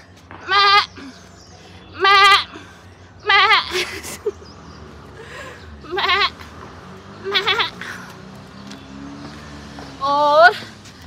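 A person mimics a goat, letting out six loud wavering bleats in a steady spaced rhythm, with a faint engine hum underneath.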